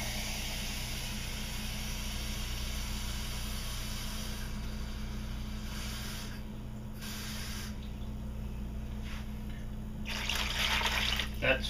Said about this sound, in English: Now we're going to take 6 cups of hot water.